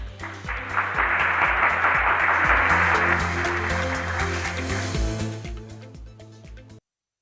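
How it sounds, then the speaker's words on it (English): Applause at the Thai-BISPA Day 2021 conference welcoming the association president, with steady clapping mixed with a repeating musical backing, sustained for several seconds before cutting off abruptly. "Please give him a big round of applause."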